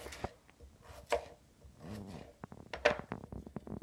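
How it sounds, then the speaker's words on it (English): A knife slices vegetables into long strips for a salad on a cutting board, producing a series of close, irregular chopping taps and soft scraping strokes, fairly quiet, with no talking. "I'm gonna cut it long slices like that."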